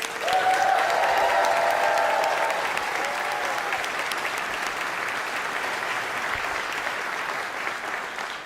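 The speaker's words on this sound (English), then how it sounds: "Let's have another round of applause for the Alexandria City High School Marching Titans" Steady, dense applause fills a large outdoor gathering at the grand opening ceremony of Amazon HQ2 in Metropolitan Park, Arlington, honoring the Alexandria City High School Marching Titans, holding strong before easing off slightly toward the end.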